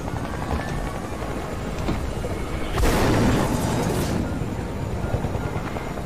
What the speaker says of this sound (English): we're going to the chopper